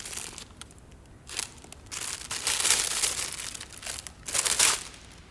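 Paper crinkles and tears in bursts with some cutting, close and fairly loud, several rough ripping passages separated by quieter handling, with no talk.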